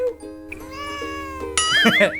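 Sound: cat meowing

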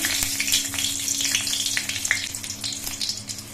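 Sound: dried red chillies frying in hot mustard oil

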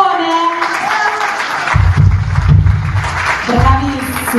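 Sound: audience applause for drum course students

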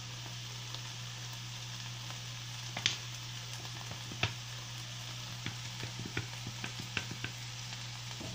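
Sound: ground garlic added to arrachera stew cooking in pan

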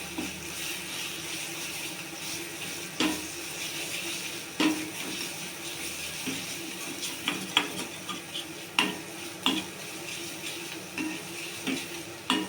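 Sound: ginger garlic paste frying in oil for crab curry

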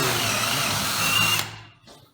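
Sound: cordless brushless drill driver running

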